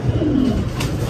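Racer pigeons give a brief, close, soft cooing call over a steady background murmur.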